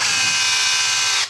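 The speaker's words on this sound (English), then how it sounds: "Now we can change our drill bit for being the right size over for our plug" A cordless drill's chuck being loosened and retightened to swap bits for a plasterboard plug while hanging a radiator, giving a steady close whirring ratchet that runs continuously and stops abruptly at the end.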